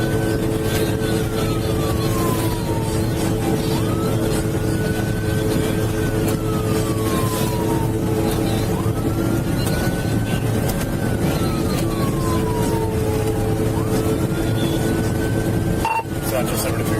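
A police pursuit of a stolen truck at high speed sounds as a loud continuous engine and road roar, with a siren wailing up and down in repeated sweeps and a radio voice speaking over it.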